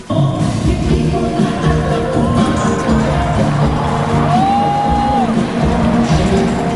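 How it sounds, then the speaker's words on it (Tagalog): A dense, continuous big-dome concert crowd roar of cheering and shouting, loud and steady throughout, with scattered whoops rising above the din. "Walang tigil naman sa hiyawan ang mga tao"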